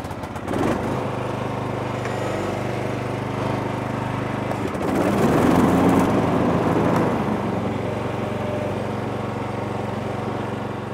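A Toro TimeCutter zero-turn mower engine cranks and runs at a steady idle, close by, with a brief swell in engine noise partway through.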